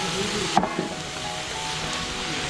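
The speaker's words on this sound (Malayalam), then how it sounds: "നമ്മൾ നേരത്തെ അരിഞ്ഞു വെച്ചിരുന്ന സവാളയും കൂടെ ഇതിനകത്തേക്ക് ഇട്ട് ഇതൊന്ന് നല്ലപോലെ ഒന്ന് നമുക്ക് വാട്ടിയെടുക്കണം" Sliced onions sizzle steadily in hot oil with ginger, garlic and green chilies, a continuous frying hiss with a faint stir or clink near the start, close and fairly loud, no talking.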